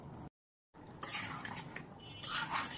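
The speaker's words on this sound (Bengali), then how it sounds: "এখন মাংসের সাথে এটা সুন্দর মতো মিশিয়ে নিচ্ছি" A spoon scrapes and clinks as meat is stirred into a ginger-garlic-onion paste in a cooking pot for coriander chicken, with soft, irregular metallic scraping close by after a brief gap of silence.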